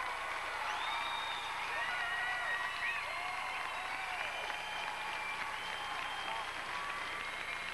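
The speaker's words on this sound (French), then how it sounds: "je pense qu'on doit une bonne main d'applaudissements à Francis et à Marie-Soleil" A studio audience on a French-language variety show applauds continuously and evenly, with faint cheers and raised voices woven through the clapping.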